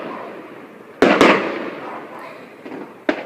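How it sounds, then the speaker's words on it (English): Fireworks burst on New Year's Eve evening in Holland: a sharp loud double bang, then a fading crackling rumble and another crack near the end, heard from a distance outdoors. "Look at the fireworks."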